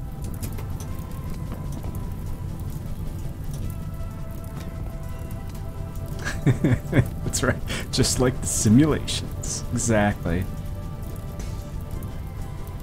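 Rain falls in the video game RimWorld as a steady, even patter that runs throughout, with someone talking over it partway through.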